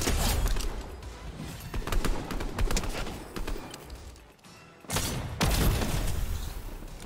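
Video game gunfire crackles in rapid bursts of sharp, fairly distant shots, with a short lull before another loud burst resumes near the end; no talking.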